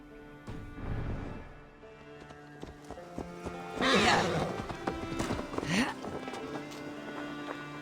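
Horse hooves clip-clop at a gallop with a sharp neigh in Assassin's Creed Valhalla, loud and close under a game soundtrack, with voices talking over parts of it.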